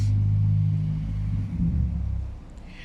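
A car rumbles low and steady outside in a yard, its deep engine drone holding strong and then easing off as it moves past, with no talking.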